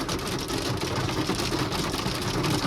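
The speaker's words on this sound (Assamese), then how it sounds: "এনেকৈ পৰিছে বৰফটো চাওক" Hail falls in Shillong as a dense, continuous, loud patter of pellets striking surfaces, steady and unbroken throughout.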